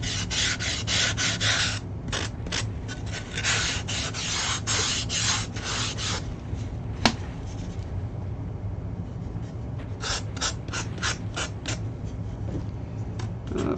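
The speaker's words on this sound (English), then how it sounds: "the other quick technique I could do is just sand this down" Sandpaper rasps back and forth over a foam rock piece in quick, close scratchy strokes, pausing briefly midway before resuming in a steady rhythm over a low background hum.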